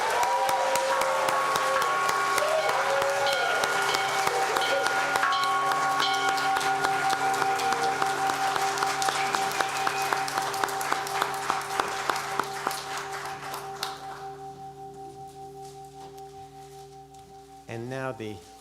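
A congregation at a Dharma ceremony bursts into sustained clapping and cheering, a dense wash of applause that thins into scattered claps, then gives way to a sustained organ-like chord.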